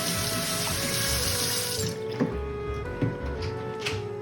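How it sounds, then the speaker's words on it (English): Hands are washed under a running kitchen tap. A steady close rush of water fills the first half, then it turns to splashing and dripping as the hands move under the stream. "make sure you always wash your hands before you touch any type of food"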